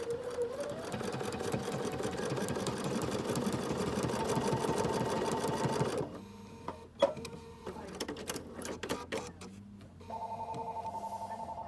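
A BERNINA jumbo bobbin sewing machine stitches a back step, a fast, steady mechanical whir for several seconds, then stops with clicks and a short beeping tone.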